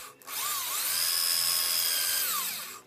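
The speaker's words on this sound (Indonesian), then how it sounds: "Kemudian kita bor ya, menurut lubang yang satunya harus lurus ya, biar presisi, sepresisi mungkin" A power drill bores a straight hole through a pond-pipe knife handle, spinning up and holding a loud, steady high whine for about two seconds before winding down.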